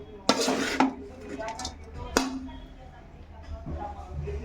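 A spoon scraping and clinking against a pan while vegetable fried rice is stirred, a few sharp metallic knocks over a quiet kitchen background with low talk.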